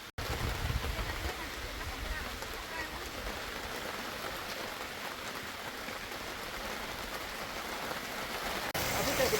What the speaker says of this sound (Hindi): यहाँ देखिए झमाझम बारिश भी शुरू हो गई है।